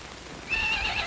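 A horse whinnies partway through, a high wavering neigh rising out of quiet outdoor background noise and holding for about half a second, fairly close and clear with no talk.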